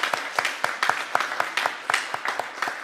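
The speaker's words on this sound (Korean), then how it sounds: "우리 박수로 환영하겠습니다" A church congregation at a Sunday service applauds to welcome visitors, a steady rhythmic clapping with evenly spaced sharp claps in unison, fairly loud and close, with no speech.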